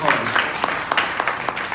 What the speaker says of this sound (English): Please, I want a round of applause for him.